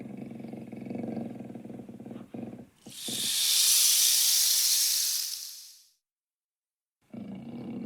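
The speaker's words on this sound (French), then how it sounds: "La bête se met à feuler." A jaguar hisses in one long, loud, breathy burst that swells and fades, followed by a brief silence, set between low rumbling ambience.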